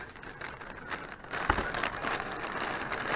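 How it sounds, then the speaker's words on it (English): Rain patters against a window during a storm with 50 mile winds at Monahans Sandhills state park, a steady hiss of drops with a few sharper taps, heard from indoors. "I can see the rain hitting the window."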